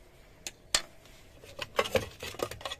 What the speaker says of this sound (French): Une petite cuillère en bois.